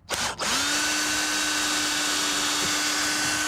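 A power drill drives a 2.5-inch lag screw into a pilot hole in a gate, starting with a brief stutter and then holding a loud, steady whine close by.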